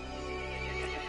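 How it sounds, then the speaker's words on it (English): A horse in the video game Resident Evil Village neighs in a steady, sustained cry set against a dense, droning backdrop at moderate volume. "The horse grew angry and summoned the other monsters."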